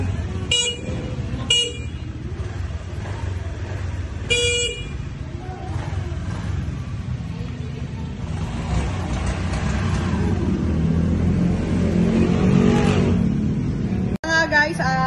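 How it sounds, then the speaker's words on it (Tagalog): A brand new motorcycle's engine runs during a test ride, a steady rumble that grows louder and revs up over the second half, with several short horn toots near the start and people talking. "na-testing na po ang ating ang motor ni Best Mabel"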